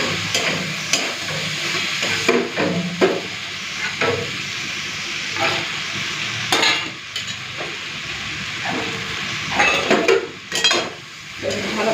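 Fish head stir-fried with vegetables and green chillies, a steady loud sizzle in the pan with repeated scraping and clinking of a spatula against the metal as it is stirred.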